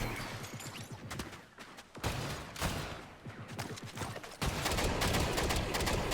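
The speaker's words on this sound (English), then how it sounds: "I love the Star Wars bullets" Star Wars blaster fire in a Fortnite Death Star battle royale: dense, rapid volleys of shots in several bursts, loud and continuous with brief gaps.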